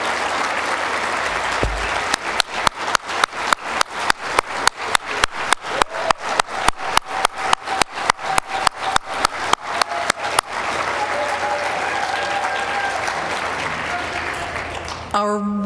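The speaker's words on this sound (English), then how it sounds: "rise for a round of applause" Applause at a university achievement celebration for promoted faculty: sharp rhythmic clapping in unison for several seconds, then looser, scattered applause from the crowd that tapers off.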